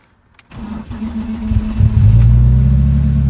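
A BMW 318ti engine being prepared for drifting starts for the first time: after a short quiet stretch, a starter cranks and the engine catches, settling into a loud, close, steady idle with a deep rumble.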